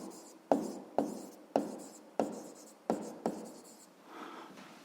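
A pen writes on paper while a sixth-grade maths exercise is worked out, close up in about six short scratchy bursts, each starting with a sharp tap, with no talking.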